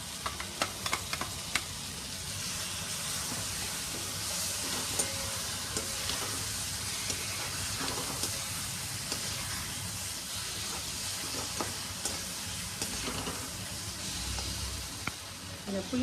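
Elephant foot yam (karunai kilangu) and ground masala fry and sizzle in a pan for a curry, with steady crackling and occasional stirring scrapes close by.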